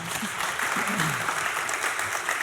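Applause from a conference audience greeting speakers at a software developer event, a short muffled spell of clapping with a voice murmuring underneath.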